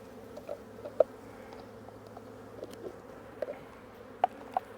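Honey bees hum low and steady around an open hive during fall beekeeping work, with occasional louder buzzes as single bees fly close past, and no talking.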